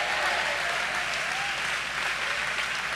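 Dense, steady clapping from a camp-meeting audience at a revival-style family camp worship service, sustained and close without a break.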